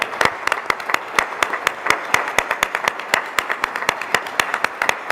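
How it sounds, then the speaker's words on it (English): Scattered applause from a modest audience at a Board of Education meeting, with individual claps clearly audible in an uneven, sparse rhythm, steady and moderately close for about five seconds. "I want to give them a round of applause first."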